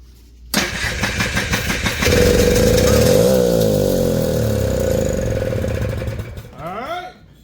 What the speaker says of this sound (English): Let's see if it's going to fire up.